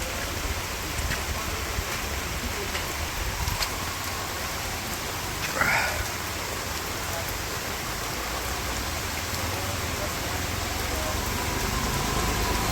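Steady rain hisses continuously throughout in a village, a dense even wash of drops with a brief louder patter midway.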